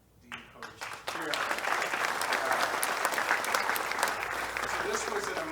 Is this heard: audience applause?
yes